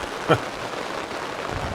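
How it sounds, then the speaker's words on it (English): Heavy rain falls around a parked overlanding vehicle on a trip toward Alaska, a steady, dense hiss that fills the whole stretch, with one brief louder knock near the start. "You might be able to hear it, but it's raining pretty good."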